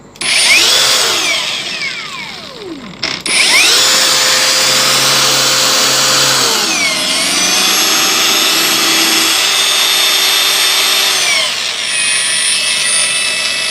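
An Ingco cordless brushless angle grinder whines loudly and continuously, its pitch stepping between slow and faster speed settings, with a brief dip near three seconds before spinning back up and shifting again.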